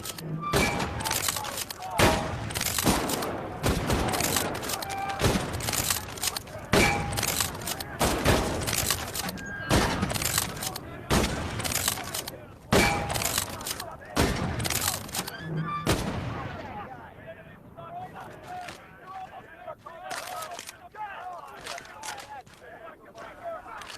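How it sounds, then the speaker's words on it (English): Rapid gunfire in the Medal of Honor video game, where a K98 bolt-action rifle is in use, comes as a dense series of loud sharp cracks for about fifteen seconds, then fades to a quieter background hum. "The K98 is a bolt-action rifle, so you reload by pulling and pushing the bolt"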